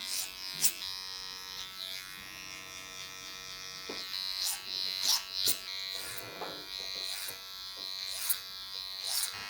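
Electric hair clippers tapering a haircut at the neckline hum with a steady close buzz, rising and dipping in short passes as the blade works the hair, with no talking.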